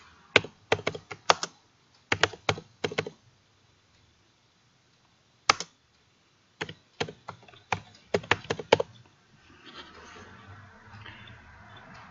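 Bursts of typing on a computer keyboard as a file name is entered, close and crisp: several quick clusters of keystrokes separated by pauses, ending in faint rustling.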